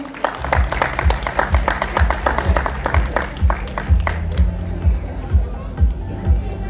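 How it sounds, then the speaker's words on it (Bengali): An audience at a film awards ceremony applauds the winners with sustained clapping, rhythmic thumps running through it, over a background hum of crowd chatter. "তাদের জন্য জোরে করতালি হোক"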